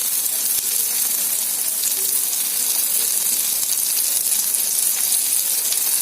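Ghee sizzling in a hot pan while sweet corn upma is being cooked, a steady, even hiss of fat that holds at the same level throughout with no voices.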